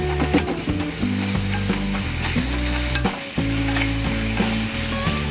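Tomatoes sauté in a hot pan for Kerala-style fish molee, giving a continuous sizzle with stirring scrapes, while melodic background music plays loudly throughout.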